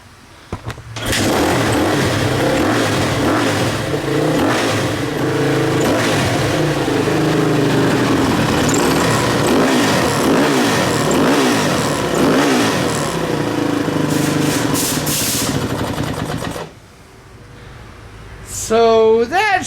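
A Suzuki RMZ450 dirt bike engine starts and runs loud and close, revving in repeated surges for about fifteen seconds before cutting off, followed by brief noise at the end.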